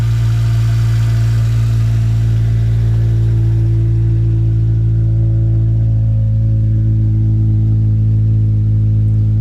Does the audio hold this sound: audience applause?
no